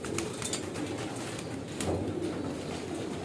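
Pigeons kept in a loft coo softly and repeatedly at close range over a low background murmur, with no talking.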